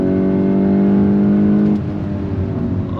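2022 VW GTI pulling hard on throttle on a wet track, a strong, steady engine note with a prominent tone for nearly two seconds before easing into a lower, rougher drone; close and loud, no talking.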